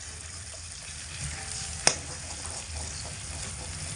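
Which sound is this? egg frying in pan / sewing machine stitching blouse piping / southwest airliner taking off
egg frying in pan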